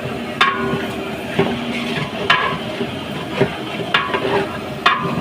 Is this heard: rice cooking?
yes